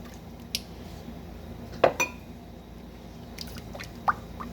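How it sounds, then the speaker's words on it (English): A spoon stirs baking soda into a warm melted homemade toothpaste mixture in a pot, giving a few sparse, light clinks against the pot over a steady low background hiss. "I'm just going to add in the baking soda, the 3/4 cup of baking soda, and kind of stir that in to this, just like that"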